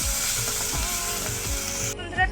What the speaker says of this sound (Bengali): বন্ধুরা পেঁয়াজটা ভাজা হয়েছে